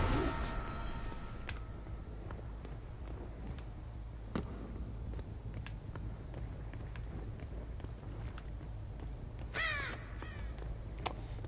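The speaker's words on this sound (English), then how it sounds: "But you also alert the freaking crows to your location." Crows cawing in the Dead by Daylight video game, heard over a low rumbling ambient drone, with a sharp burst of caws near the end of a mostly steady background.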